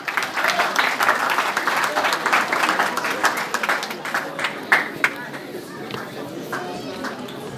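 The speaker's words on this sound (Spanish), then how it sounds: "Un aplauso para ellos, por favor" An audience applauds as jury members step onto a stage, a thick run of clapping that thins and fades toward the end, with voices talking through it.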